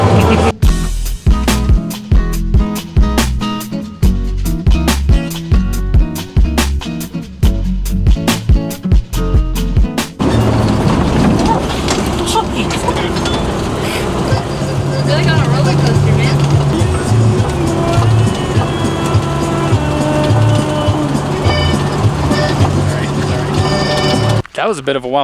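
Bus on a steep, winding mountain road heading toward a volcano in Mexico; steady engine drone and road rumble throughout, with music and chatter over the first part, then continuous cabin noise.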